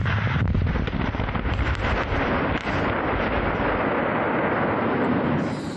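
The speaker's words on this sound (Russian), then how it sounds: "Один. Взрыв." A deep, rumbling blast from explosives breaking river ice in East Kazakhstan roars through continuous heavy noise, dense and unbroken, heard outdoors with wind buffeting the microphone.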